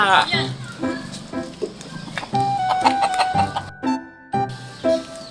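A fighting rooster clucks in short bursts mixed with a person talking nearby, the sounds close and fairly loud with brief pauses between them.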